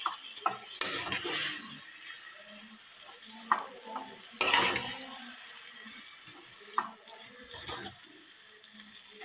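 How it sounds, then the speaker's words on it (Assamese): Tomatoes stirred in a sizzling pan for a paneer dish, a bright hissing fry broken by several scraping, splashy stirs, close and moderate, no speech. "তো টমাটৰখিনিও ঠিক তেনেকৈয়ে লৰাব লাগিব"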